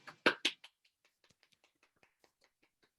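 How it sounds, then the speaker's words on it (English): A few people clapping at a Psi Chi induction ceremony, a short loud burst of close claps that quickly thins into sparse, faint scattered claps. "So let's give another round of applause."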